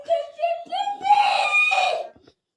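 A young girl screams in a series of high, piercing cries that build into one long, loud shriek before cutting off, close to the microphone with no other sound behind it.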